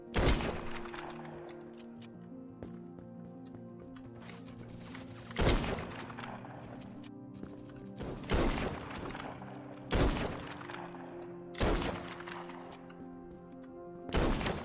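Pistol shots ring out in the browser shooter Krunker.io, six sharp, loud reports spaced a couple of seconds apart, each trailing off into a faint decay, with no talk over them.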